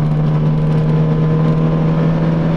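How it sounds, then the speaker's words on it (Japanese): A gasoline-engined JP STAR Discovery 4WD camper van accelerates flat out, its engine producing a loud, steady droning hum with a persistent tonal whine and no speech. "じゃあフル加速いきます。"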